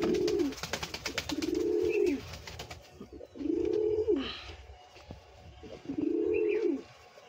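Satin pigeons coo close by in four repeated low, rolling phrases with short breaks between, alongside faint chirps and scratchy background noise.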